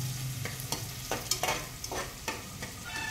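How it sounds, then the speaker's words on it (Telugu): Vegetables frying in a pan for vegetable biryani, with a steady sizzle and a few sharp clinks and scrapes from stirring. "ఒకటి తర్వాత నీట్గా వేయించుకోవాలి."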